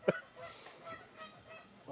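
A couple of faint goose honks sound in the distance at an outdoor ultramarathon race, one short call near the start and another at the end, with quiet ambient noise between.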